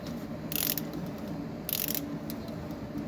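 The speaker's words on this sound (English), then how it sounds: "now I'm going to remove the oil filter housing" A ratchet with a 27 mm socket and extension loosening the oil filter housing on a 2022 Hyundai Kona 2.0L, two short bursts of close, crisp ratcheting clicks over a steady low background hum.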